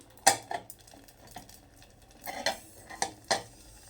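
A lid goes onto a cooking pot while making rice pitha, with a handful of close metallic clanks and clinks spaced irregularly over a faint low hiss.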